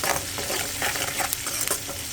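Green chilies, onion and curry leaves sizzling steadily in hot oil, a close, dense crackle with soft stirring scrapes throughout and no talking.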